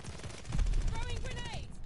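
Gunfire crossfire in the video game Call of Duty: Vanguard, a burst of several quick shots mixed with faint game effects at moderate level.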